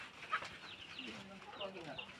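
Chickens at a poultry seller's stall cluck in short, scattered calls close by, over a busy background of voices and market bustle.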